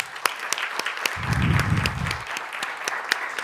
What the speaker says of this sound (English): Ladies and gentlemen, please join me, offer them a round of big applause.